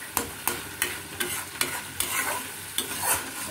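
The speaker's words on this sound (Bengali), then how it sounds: "টমেটোটা দিয়ে নাড়িয়ে নিতে হবে।" Chopped tomato stirred into spices frying in oil for a raw banana kofta curry, with a close, steady sizzle and about eight sharp, regular scrapes of a spoon against the pan.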